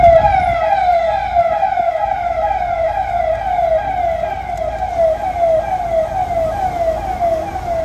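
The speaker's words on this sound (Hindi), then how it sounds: "पूरे सायरन के साथ साथ, गाजे बाजे के साथ निकल रहे हैं" A wailing vehicle siren cycles up and down continuously, loud and close, over a low rumble of traffic.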